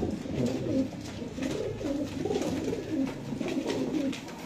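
Domestic pigeons coo in repeated soft, throaty phrases at close range, rising and falling steadily throughout with a low background murmur and no talk.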